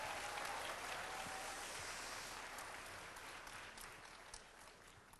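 A church congregation gives a sustained round of applause as praise to the Lord. The clapping is quiet and distant, forming a steady wash that thins slightly toward the end.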